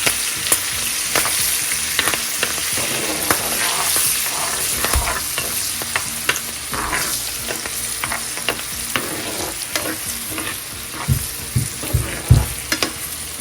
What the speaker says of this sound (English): green chilies, and some curry leaves. Fry for a few seconds.